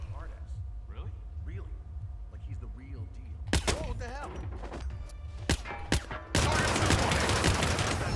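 Gunshots in Hitman: a few sharp, isolated shots are followed by a loud, sustained burst of rapid fire at the end. Someone talks over the earlier part.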